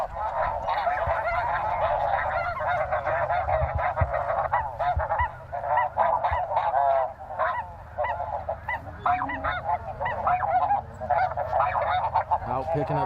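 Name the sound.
large flock of snow geese honking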